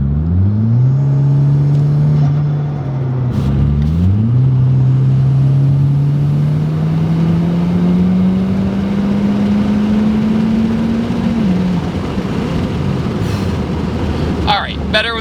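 A turbocharged Chevy Cruze engine pulls at partial throttle, a loud, steady drone that rises in pitch over several seconds, dips briefly as if shifting, then climbs again before easing off; continuous and close.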